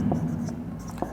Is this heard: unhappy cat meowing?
no